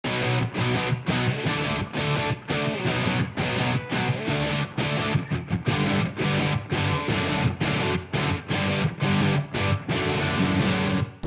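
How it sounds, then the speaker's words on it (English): Three layered electric guitars, heavily distorted through Mesa amps, chug dense palm-muted rhythms in a pop-punk style, loud and continuous with rhythmic stops and no voices. "These 3 guitars sound like this."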